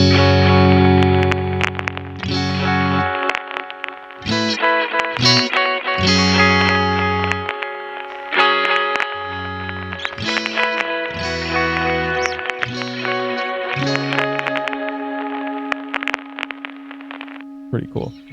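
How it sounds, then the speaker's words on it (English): An electric guitar runs through a Strymon TimeLine delay pedal with vinyl distortion added, playing sustained chords and notes with lush repeating echoes and gritty texture, loud and continuous. "Then you can even go in and add some vinyl distortion."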